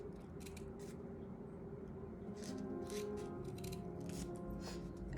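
Scissors make several quick, crisp snips through folded crepe paper, short bursts grouped in the second half over a faint low hum, close but quiet, with no talking.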